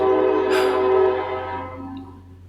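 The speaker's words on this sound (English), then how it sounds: "Trains are extra loud today" A train passes close by with its horn blaring in sustained, chord-like blasts over a heavy, steady rumble that slowly fades toward the end.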